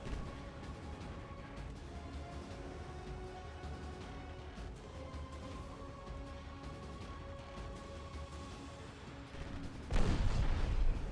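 Warship turret guns fire during an Ultimate Admiral Dreadnoughts naval battle, with repeated distant booms and rumbling volleys over a continuous low drone and a heavier blast near the end.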